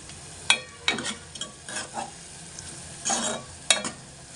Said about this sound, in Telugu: చూడండి ఫ్రెండ్స్, ఉల్లిపాయలు అయితే ఇలా వేగిపోయాయండి